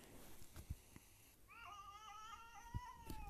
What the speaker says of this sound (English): This cat is angry one.